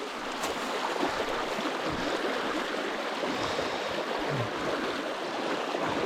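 River rapids rush and churn during trout fishing, a steady, broad roar of flowing water filling the whole moment with no breaks and no voices.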